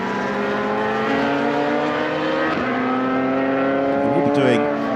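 Radical race cars at Jerez, one lapping another during a European Masters race, with a loud, steady engine drone and a brief rising note near the end, with commentary running over it.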